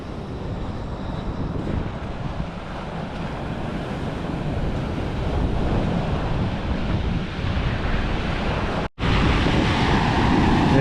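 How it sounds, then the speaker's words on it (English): Ocean waves roll and break over a sandbar just offshore, a steady loud surf wash with rumbling low end and wind buffeting the microphone, with a brief dropout near the end. "You watch this wave, it'll break."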